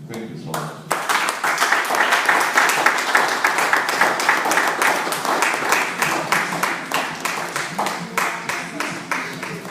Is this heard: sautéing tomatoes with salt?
no